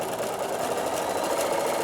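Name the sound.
Bernina sewing machine stitching around the edge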